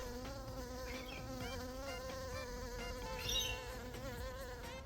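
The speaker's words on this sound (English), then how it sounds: "If you have some blue banded bees around" Blue banded bees and other insects buzz steadily around garden flowers, a continuous close hum with wavering tones and a brief louder pass near the end, no talking.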